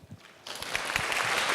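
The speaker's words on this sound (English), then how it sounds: "Oh, you don't have to clap." Audience applause breaks out at a book reading, starting quietly and swelling into steady, dense clapping from a modest crowd that holds to the end.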